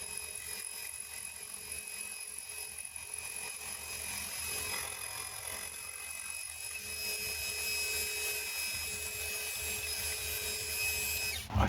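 A milling machine fly-cuts a steel part for a homemade 4-inch milling vise, a steady whining, tonal drone with a constant intermittent cutter rhythm running evenly throughout at moderate level, with no talking.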